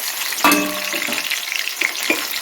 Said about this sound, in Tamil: இப்போ கடுகு பொரிஞ்சு வச்சு வெங்காயம் போட்டுக்கலாம்